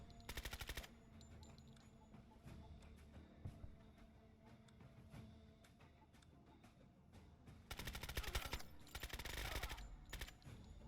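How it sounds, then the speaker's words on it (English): Machine gun suppressive fire in the tactical game Door Kickers 2 comes as quiet, distant bursts of rapid shots, with two louder sustained volleys near the end. "I'm going to use my machine gun to just start laying down suppressive fire on these guys right now."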